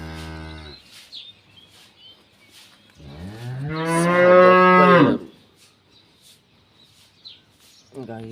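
A large, docile cow gives one long, loud moo of about two seconds, with shorter lowing calls at the start and end, against a quiet farm background.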